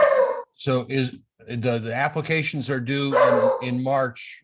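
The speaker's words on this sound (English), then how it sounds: "I'm sorry about the dog barking issue," Dog barking in a home during an online meeting, short sharp barks mixed in with a person talking over them.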